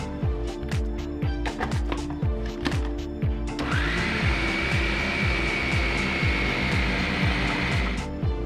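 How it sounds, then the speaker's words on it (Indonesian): A food processor whirs steadily while blending pasta dough ingredients with basil, garlic and lemon, its motor drone loud and continuous with rhythmic thumping of the dough against the bowl, rising to a higher-pitched whine partway through. "Saya tadi pakai food processor."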